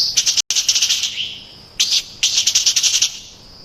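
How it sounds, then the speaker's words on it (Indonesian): A long-tailed songbird sings loudly and close in rapid bursts of bright, repeated chirping notes, broken by two short pauses, with no voices over the song. "coba dengar kicauannya."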